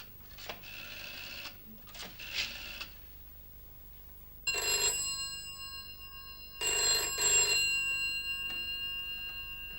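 A telephone rings after a number is dialed, with two long electronic ring bursts following some earlier clicks and tones, heard faint to moderate in a quiet room.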